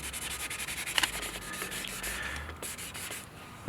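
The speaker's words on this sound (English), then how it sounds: "it looks like I'm sanding on the edges" Hand sanding on a painted Toyota Tacoma bumper, quick rhythmic scrubbing strokes close by, with a brief sharp tap near the start and the strokes softening and slowing toward the end.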